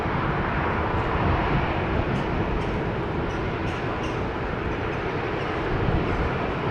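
Airbus A220-300 airliner at a rainy Amsterdam Schiphol Airport, a broad, steady engine roar mixed with rain hiss, moderately loud and continuous throughout.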